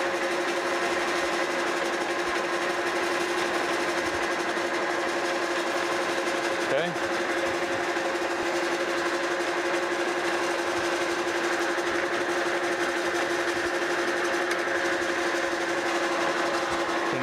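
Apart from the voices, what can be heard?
lathe turning a new ratchet pin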